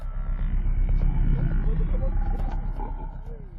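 Lion attacking a buffalo in the wild, a dense, continuous rumble of growls and snarls with scattered bellowing calls over steady low-frequency noise, loud throughout.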